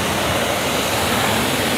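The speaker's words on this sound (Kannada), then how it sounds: "ನೋಡಿ ಯಾವ ಥರ ಸ್ಪ್ರೇ ಆಗುತ್ತೆ, ನೀರು ಜಾಸ್ತಿ ಖರ್ಚಾಗಲ್ಲ ಸರ್ ನಿಮಗೆ" A pressure washer sprays water in a loud, continuous hiss, close by and unbroken through the short moment.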